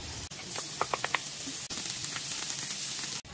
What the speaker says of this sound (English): Once the butter is almost melted, we can now add the lemon juice.